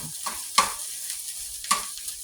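Potatoes cooking in a pan over very low heat, a soft, faint sizzle broken by a few brief scraping stirs, quiet and close with no talking.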